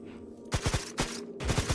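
Rapid gunshots from a modded gun in Minecraft ring out in quick clustered bursts, three or four shots each, fairly loud over a low game hum.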